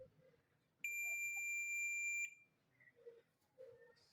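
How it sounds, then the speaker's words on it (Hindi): A multimeter gives a steady continuity beep of about one and a half seconds while a Suzuki GS motorcycle starter armature is tested, then quiet clicks and handling noises follow. "इन सब की आपस में बीप आनी चाहिए। ये देखें जो कि आ रही है"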